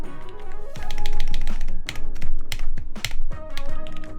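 Typing on a plateless mechanical keyboard with PBT keycaps: fast, close clicky keystrokes in an uneven rhythm over a steady low background hum, with no talking.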